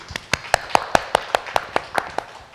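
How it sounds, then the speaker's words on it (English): Audience applause at a Women In Alliance panel event as speakers are introduced, heard as a steady run of about a dozen crisp, evenly spaced claps, fairly close and clear, with no talking. "Round of applause."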